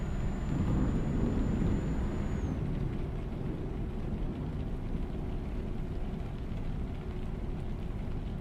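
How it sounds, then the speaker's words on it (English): A thunderstorm rolling in during Euro Truck Simulator 2, a low, sustained rumble blended with the steady drone of a truck on the road, with a thin high tone that cuts out early and no voices. "There is a massive storm front coming in."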